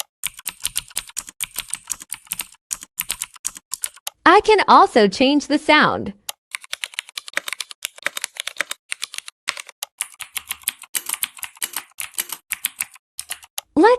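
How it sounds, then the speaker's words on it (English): Rapid, crisp clicking of ordinary laptop keyboard keys, made to sound clacky like a mechanical gaming keyboard by software, fills the clip, pausing briefly while a person speaks. "I'm using this normal keyboard, but it still sounds like gaming keyboard."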